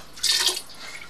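A little water is added to pork adobo cooking in a pan, making a brief, close hissing splash that swells and fades within half a second.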